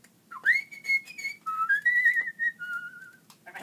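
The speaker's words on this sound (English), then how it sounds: "very young King Gerard whistled" Someone whistles a bright, wandering melody in a children's story recording, a series of clear close notes, some held and some bending, heard alone with no talking.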